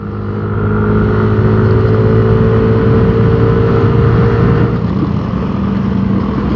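A Mercedes-AMG GT S sports car's engine drones loud and steady as it passes close by, a continuous throaty roar with no pauses and no talk.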